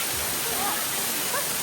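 Batlag Falls waterfall pouring in a steady, dense broadband rush, loud and close, with faint voices barely audible beneath it.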